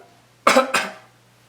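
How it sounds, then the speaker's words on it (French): Two quick coughs close together, near and fairly loud, with a faint steady hum underneath and quiet before and after. "je tousse"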